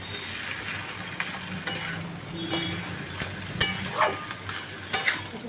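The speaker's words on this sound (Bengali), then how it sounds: "করে এটাকে নেড়ে মেশাবো মিশিয়ে আস্তে করে রেখে দেবো যাতে মাছগুলো ভেজে তরকারির মধ্যে মিশে যায়" Katla fish heads sizzle in oil while being stirred into a pui shak chhechra curry, a steady crackling fry punctuated by irregular scrapes and knocks of a spatula against the pan, close and without talk.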